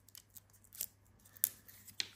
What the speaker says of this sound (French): Je vais enlever le scotch parce que ça tire sur